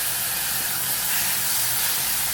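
Onion, tomato and chili sautéing in a pan, giving an even, loud sizzling hiss that holds steady throughout, close and without other sounds.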